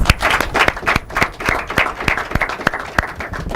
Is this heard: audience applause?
yes